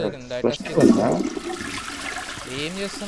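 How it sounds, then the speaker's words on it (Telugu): A toilet flushes in the video game Dark Hours, a short rushing gurgle of water that swells and fades, heard under overlapping talk from players. "నువ్వు ఫ్లష్ చేస్తున్నావు"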